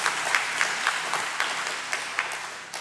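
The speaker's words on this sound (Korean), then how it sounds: "다 잘하셨으니까 박수 한번" A church congregation at a festival worship service claps together, a fairly loud, dense round of applause with a few louder claps standing out, heard close and alone without talk.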